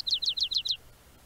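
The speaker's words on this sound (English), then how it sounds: "Our next bird is the white-crowned sparrow." White-crowned sparrow singing near Mount St. Helens: five quick, bright descending chirps in an even rapid series, clear and close, then the phrase stops and only faint background remains.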